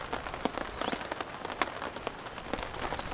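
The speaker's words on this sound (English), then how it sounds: "Camping in the rain" Light rain patters on a camping tarp, soft irregular drops tapping close by at a low, steady level.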